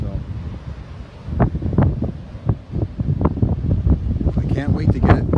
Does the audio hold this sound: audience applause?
no